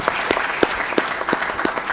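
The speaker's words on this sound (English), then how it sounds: "So round of applause for these guys, please." An audience at a board of education meeting gives a round of applause, many hands clapping briskly with regular louder claps standing out from the steady close patter.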